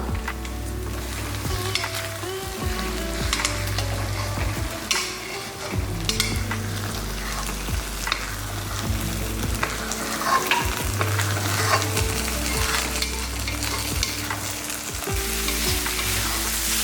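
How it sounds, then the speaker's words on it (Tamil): Vegetables for chicken fried rice sizzle and hiss in a hot pan with a little oil while a utensil stirs and scrapes through them steadily, with occasional clinks, close and continuous. "இந்த காய்கறிகள் எல்லாம் சேர்த்து நல்லா ஒரு வாட்டி நல்லா மிக்ஸ் பண்ணிக்கலாம்."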